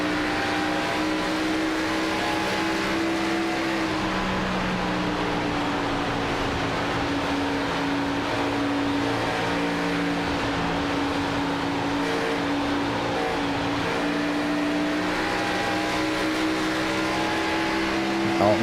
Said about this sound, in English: I hear that car getting shut down.